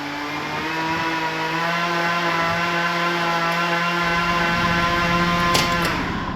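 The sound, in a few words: weed whacker running in the background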